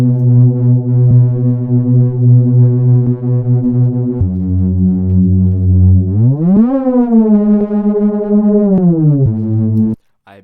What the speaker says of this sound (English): the next bass, which is a Reese bass, which is a little bit different